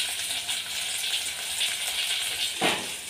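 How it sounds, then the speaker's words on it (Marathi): Tomatoes dropped into hot oil with frying onion, green chilli and whole spices for a chicken biryani, giving a steady sizzle throughout with a brief louder burst of frying near the end; no voices. "आता टमाटर टाकते."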